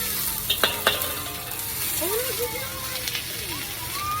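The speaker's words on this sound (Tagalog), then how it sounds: "ilagay na natin ang sibuyas at bawang" Onion and garlic sizzling as they sauté in a pan, a steady frying hiss with a couple of sharp clinks near the start, while people talk over it.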